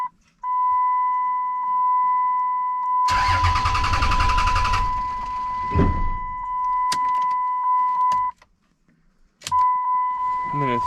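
Dodge Ram Cummins diesel engine cranking for a few seconds and catching, then running steadily, with a steady electronic dash chime tone beeping through and briefly cut out near the end.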